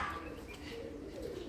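A white-eyed racing pigeon hen, small red on the neck, winner of a June race, coos softly alongside steady background noise, with no clear separate calls standing out.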